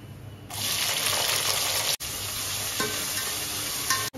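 Onion dropped into hot oil with whole spices for a chicken biryani gravy, bursting into a loud, continuous close sizzle with a brief break and a few light stirring clinks.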